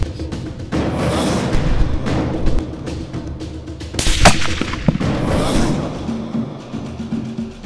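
A single sharp hunting rifle shot cracks out midway over windy outdoor rumble, loud and abrupt, followed by a brief fading echo.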